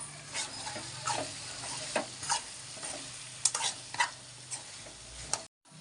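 A spoon scrapes and stirs village-style eggplant curry frying in a pan, in repeated uneven strokes over a steady low sizzle, close and fairly quiet.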